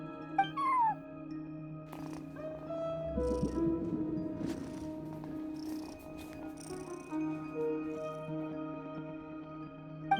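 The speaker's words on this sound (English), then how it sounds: "No one except for a cat watching over the front desk." A cat in Genshin Impact sits at a front desk and gives short meows over steady game music, with a brief chime-like sound near the start.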